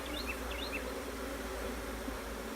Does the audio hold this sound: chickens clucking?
no